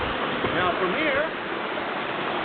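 Water rushing and gurgling as dumped material washes through a homemade gold extraction contraption at a gold mine, a steady close wash with a brief whistling tone partway through.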